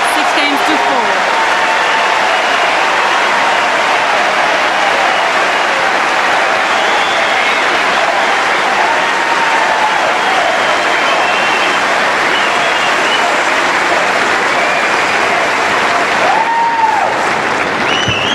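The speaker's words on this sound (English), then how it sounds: "Huge cheer erupted from the Centre Court Stadium here at Flinders Park." A huge stadium crowd at Centre Court, Flinders Park, applauds and cheers loudly and continuously for Steffi Graf after a game at the 1993 Australian Open tennis match against Monica Seles, a dense roar of clapping and shouts.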